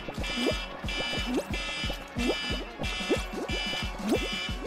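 An alarm goes off in a steady repeating pattern of pulsed electronic tones, roughly one cycle per second, continuous and moderately loud with no talking.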